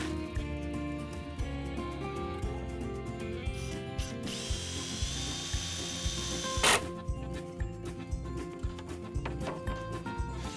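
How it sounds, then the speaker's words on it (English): Power drill driving a screw through the tongue of a solid timber Porta Endure cladding board, with short whirring bursts, ratcheting clicks and a sharp mechanical rattle midway, close and fairly quiet. "we're going to drive a screw here to be concealed fixing right through this tongue"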